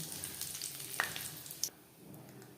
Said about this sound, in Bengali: সর্ষের তেল গরম করে নিয়েছি ফোড়নে দিয়ে দেবো পাঁচ ফোড়ন একটা তেজপাতা